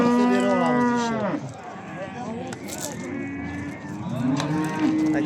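At a livestock market, cows low loudly and close by in long drawn-out moos, several overlapping calls, with market chatter faint in the background.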